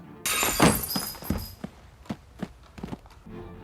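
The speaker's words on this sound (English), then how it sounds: "he accidentally breaks the table's glass, resulting in a horrific accident off camera" Glass tabletop shattering during a film scene, a sudden bright crash with a dense burst of breaking glass followed by several scattered thuds and clinks of falling pieces, fairly close and without talk.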